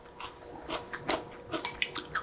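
Close, quiet crunchy chewing of crisp onion in a Korean zucchini side dish, a quick series of soft bites and crunches with no talking.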